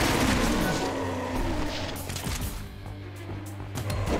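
Gunfire in the video game Resident Evil Code Veronica, dense bursts and booms layered over a low rumbling game soundscape, loud at the start and continuing unevenly throughout.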